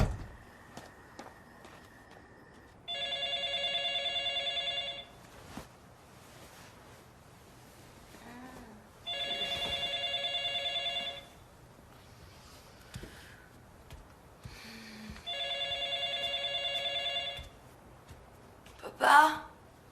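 A telephone rings in three evenly spaced electronic bursts, each about two seconds long with a pause between, moderately loud indoors against a quiet background.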